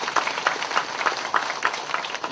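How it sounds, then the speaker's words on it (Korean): An audience at an exhibition opening in Korea applauds steadily, a dense patter of clapping hands sustained throughout at moderate volume. "다시 한번 큰 박수 부탁드리겠습니다."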